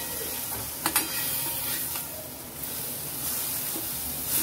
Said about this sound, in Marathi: छान एकदा परत एकदा हलवून घेऊया आपण